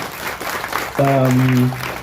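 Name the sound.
audience applause for the music producers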